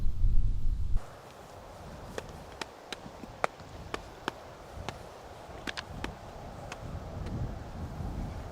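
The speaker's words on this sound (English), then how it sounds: "There we see how the wind blows really hard." Strong wind gusting across an open disc golf course, a steady broadband rush beginning with a loud buffeting burst on the microphone, then lower and continuous, with scattered sharp clicks and taps over it.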